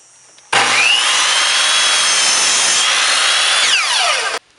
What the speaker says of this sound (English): I'm using a miter saw here, but for these straight cuts you could basically use any saw